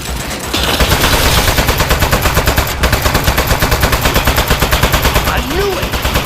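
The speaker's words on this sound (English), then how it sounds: "Oh jeez, it's got a gun! It's an ambush!" Rapid, sustained machine-gun fire from a turret in the Aperture Desk Job video game, loud and continuous with a dense rhythmic burst pattern lasting several seconds without pause.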